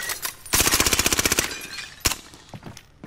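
Rapid burst of automatic gunfire in an online multiplayer shooter game, about a dozen quick shots in a row, followed by a single sharp shot and fainter scattered game sounds.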